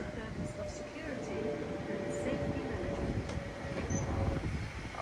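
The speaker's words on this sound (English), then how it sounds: "That should be the 101 service to Gospel Oak now. The approaching train." A London Overground train approaches and passes through Harringay Green Lanes station. A steady rumble of wheels and rail noise is joined by a thin, sustained squeal, with a voice talking faintly underneath.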